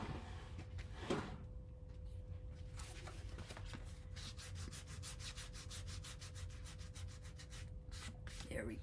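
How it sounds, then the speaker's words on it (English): A glue eraser rubs adhesive off a paper card in quick, steady back-and-forth strokes, a close, soft scratchy friction that continues for several seconds with a few brief pauses. "I think I'll have to come in with that glue eraser."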